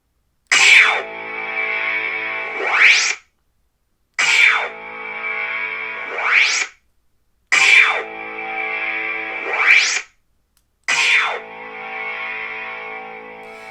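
A lightsaber on a Crystal Focus board, running the Maverick Hunter sound font by Cosmic Ape, makes four loud, smooth swings, each a sweeping whoosh over a buzzing hum, separated by brief silences.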